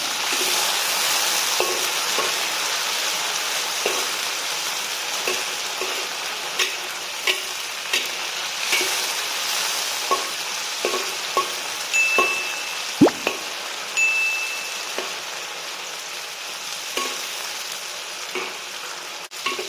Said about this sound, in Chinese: 我们把这个香料呢炒香